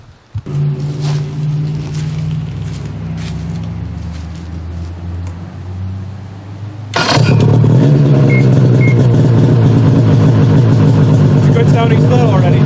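A Skidoo 800 PTEK snowmobile with a JPR Performance can exhaust idles with a loud, steady two-stroke drone, then suddenly revs up into a much louder, sharper, raspy roar that holds to the end.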